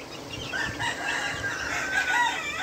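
A three-week-old male chick, a young rooster, gives thin, high peeping and chirping calls over a steady background murmur from other chicks, continuous and fairly close.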